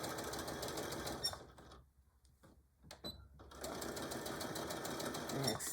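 Sewing machine back stitching the fabric of a tool bag pouch, a steady close mechanical whir that stops briefly for about a second and a half, then starts again and runs continuously.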